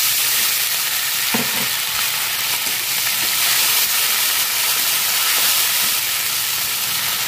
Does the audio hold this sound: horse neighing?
no